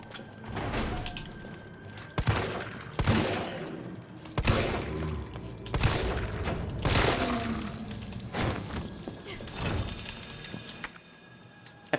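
Gunfire in Resident Evil 3 cracks out in a steady run of shots, single blasts and short bursts spaced every second or so at moderate loudness, with game ambience running underneath.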